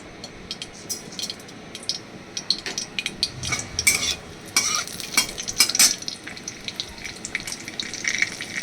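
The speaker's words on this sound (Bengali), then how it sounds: "এবার এর মধ্যে দিয়ে দিলাম এই সাদা জিরেটা" Cumin seeds crackle and sizzle in a small amount of hot oil for a fish-roe dish, with sharp popping bursts and scraping stir strokes over a steady frying hiss, no voices.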